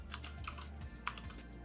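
Rapid clicking keystrokes on a computer keyboard as a command is typed, quiet and close, a brisk uneven run of taps.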